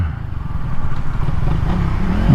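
A 2022 Suzuki Raider 150 fi motorcycle ridden on the road, its engine giving a loud, close, rough rumble with rising revs and wind noise over a short stretch.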